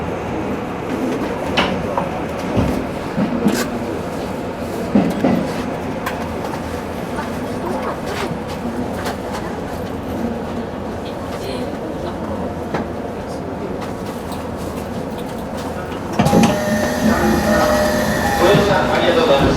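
A Tozai Line commuter train in Chiba, Japan runs with a steady rumble and clatter, and near the end a louder burst of tones and noise comes in; voices are heard in places.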